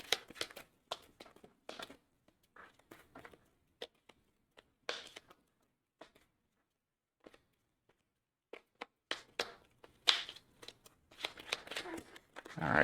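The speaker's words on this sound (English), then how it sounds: "we'll go ahead and shuffle up and see which 2 cards she is going to lose here" A deck of playing cards for an Arkham Horror card game is shuffled in quick riffles and soft snaps, quiet and close, with a speaking voice between and over the shuffles.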